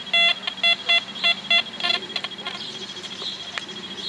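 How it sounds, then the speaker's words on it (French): Metal detector signal tones sound over a target during a family detecting outing, several short, loud, regular beeps in the first two seconds, then fainter tones among interference. "On va mettre un peu de son au détecteur."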